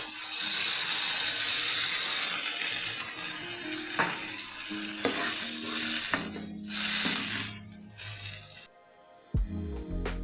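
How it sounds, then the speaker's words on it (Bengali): Two bowls of water poured into cooked-down spiced masala for a Bengali fish-head curry, a steady splashing rush that turns to sizzling bubbles before a short quiet gap and a final clatter. "এখন 2 বাটি জল দিয়ে দিব।"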